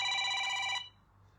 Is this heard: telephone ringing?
yes